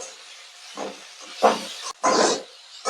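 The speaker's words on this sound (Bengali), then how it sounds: "দিয়ে দিচ্ছি কেটে রাখা টমেটো তারপর আবার এগুলো নাড়াচাড়া করে নেবো একসঙ্গে" Chopped tomatoes drop into a hot pan with onions and soya chunks, then sizzle and hiss in a few surges as they are stirred, close by with no talk.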